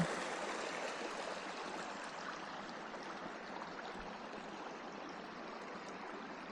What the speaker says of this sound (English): I hear the sound of running water over in that corner.